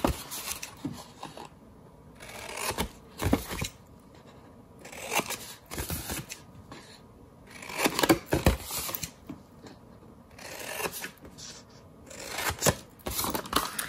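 Paper being cut with scissors up to a score line during a craft class, a series of crisp snipping bursts repeating at close range with quiet pauses between, no talking.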